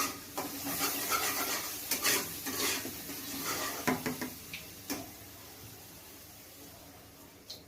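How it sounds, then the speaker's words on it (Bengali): Potato and pumpkin curry is stirred in a pan, with a soft sizzle beneath several clinks and scrapes of a spoon against the metal that fade toward the end. "দাঁড়াও নাড়িয়ে নিই একবার।"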